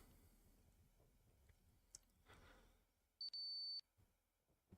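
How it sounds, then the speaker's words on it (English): A CO2 alarm in the space-survival game Ostranauts sounds as a short, steady electronic tone of two quick bursts over a low ambient hum with faint clicks. "And there goes my CO2 alarm again."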